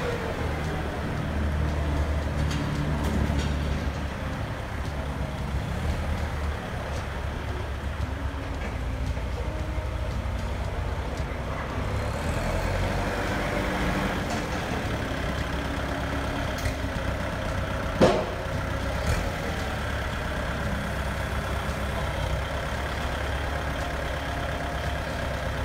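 A Kubota L4708 4WD tractor fitted with a front blade and disc harrow drones steadily at close range through a test drive, a low diesel rumble with one brief knock partway through.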